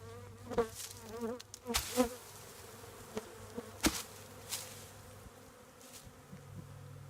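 Honeybees buzzing as they fly out of a nuc box left near a hive entrance after installation, a faint continuous insect drone with a few louder close passes and brief handling knocks.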